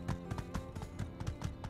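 Horse hooves clip-clopping in the video game My Time at Sandrock, a steady rapid trotting rhythm of repeated thuds, close and continuous over a dense, busy game soundtrack.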